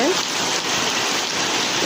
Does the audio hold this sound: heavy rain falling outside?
yes